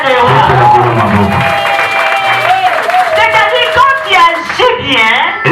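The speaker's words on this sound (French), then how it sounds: "Acclamons le roi des rois." A church congregation at a Sunday service claps and cheers in a lively mass of crowd noise, with shouting and singing voices carried over the applause.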